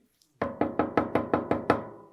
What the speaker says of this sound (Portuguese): batiam na porta